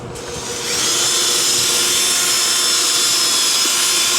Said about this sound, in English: one of the boys working on the rear end, doing rust removal